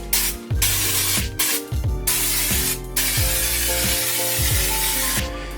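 Bursts of Lizard Skin coating sprayed inside a Mazda RX-7 car door, hissing in repeated pulses, close up, with short pauses between each spray and a low background hum.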